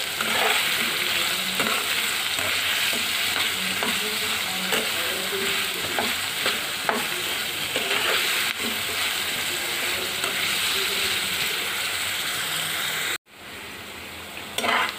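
Pieces of papaya frying in a pan until light brown, a steady close sizzle with frequent stirring scrapes and clicks for most of the stretch, then a brief cut and quieter frying at the end.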